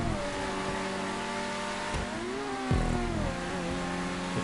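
A race car's engine revs continuously in a GTA V one-make race on PS5, the pitch climbing, dipping at shifts and surging again, loud and steady with no voices.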